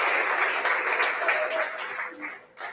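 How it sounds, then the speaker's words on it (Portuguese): Congregation applauding during a Portuguese-language Sunday church service, a dense wash of clapping that gradually thins and fades toward the end, with faint voices mixed in. "pode aplaudir"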